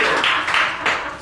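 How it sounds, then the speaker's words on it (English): A small group gives brief applause for a participant named Nancy during an herbal health book talk, a few short bursts of clapping with some talk mixed in. "round of applause for Nancy"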